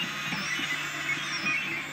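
A Snapmaker 3D printer running with its linear rail moving, giving a continuous high stepper-motor whine with soft whirring and faint rhythmic mechanical ticks, close and steady without speech.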